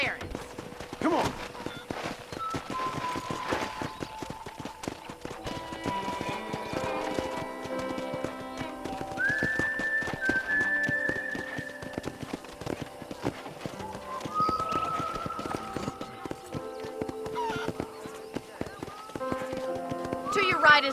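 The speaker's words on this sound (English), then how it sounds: "I picked out a fine horse for you." Horse hooves clip-clopping at a walk across a ranch in the video game Red Dead Redemption, faint rhythmic steps under a voice and light background music.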